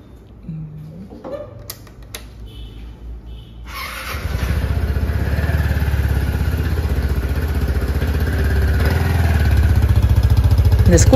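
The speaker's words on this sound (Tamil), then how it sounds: "இந்த பைக்கோட ஸ்டாக் எக்ஸாஸ்ட் நீங்கள் எப்படி இருக்குன்னு கேட்டு பாருங்களேன்." After a few clicks and handling noises, a Keeway Sixties 300i scooter with stock exhaust starts and idles steadily with a low, rhythmic exhaust putter, close and continuous.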